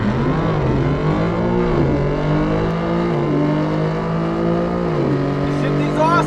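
A BMW G80 M3 accelerates hard in a drag race. The loud engine climbs steadily in pitch, with several automatic upshifts marked by brief dips before it rises again, while a voice talks over it.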